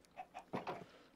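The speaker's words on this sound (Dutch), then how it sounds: "Oh, er is een kip ontsnapt." A chicken in Minecraft making four short, soft clucks in quick succession, close and fairly quiet with no talk over it.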